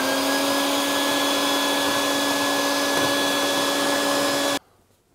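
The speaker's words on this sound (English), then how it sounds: "I'm just gonna take a little shop vac and vacuum everything up." A shop vacuum cleaning out a dishwasher runs with a steady, loud drone and high whine, then cuts off abruptly near the end, leaving near silence.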